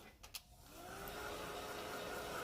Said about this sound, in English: So I am going to take my heat tool